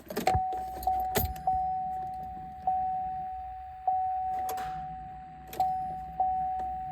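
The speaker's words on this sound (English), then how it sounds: "now I'm just gonna try to start it for peace of mind." Keys jangle against the ignition of a 2015 GMC Sierra pickup with a no-crank fault. A steady electronic chime runs through it, broken by sharp metallic clicks and rattles every second or so. Nothing cranks, and no one speaks.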